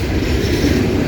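A combined 200-car CSX loaded coal train rolls steadily past at Morgan Station Road, a loud, continuous rumble of heavy wheels and cars close by with no break.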